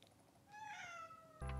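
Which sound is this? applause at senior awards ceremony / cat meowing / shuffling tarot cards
cat meowing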